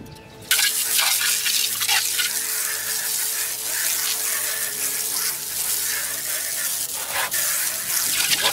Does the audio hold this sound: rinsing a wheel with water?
yes